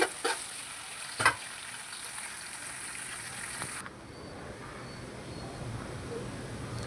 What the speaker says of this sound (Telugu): ఇలా ప్రతిదీ మనం వేసుకొని వేపుకుంటూ ఆయిల్లో